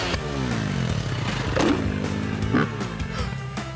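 Motorcycle engine during a freestyle backflip stunt, a close, gritty revving roar with a couple of rising throttle surges over crowd-like background noise.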